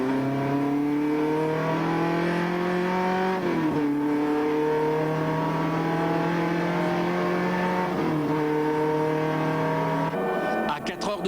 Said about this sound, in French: Au petit matin, elle est toujours là. Et apparemment, le moteur a retrouvé toute sa pêche